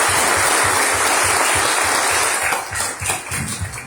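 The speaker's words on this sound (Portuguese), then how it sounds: "Então, um aplauso ao Senhor por essas vidas." A church congregation gives sustained applause during a Sunday service. A steady wash of many hands clapping continues without a break, loud and close, then thins slightly and turns more uneven near the end.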